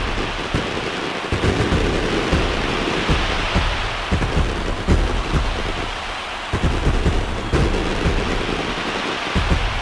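Steady rain and rolling thunder fill a stadium ambience in the baseball video game MLB The Show, a dense loud downpour with repeated low rumbles and cracks.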